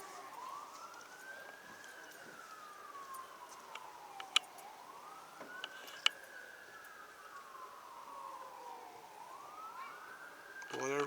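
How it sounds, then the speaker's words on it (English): A tornado siren at the Oklahoma City zoo wails from a distance, its tone slowly rising and falling in long sweeping cycles over a steady background hiss. "Their tornado siren usually goes off every day at noon."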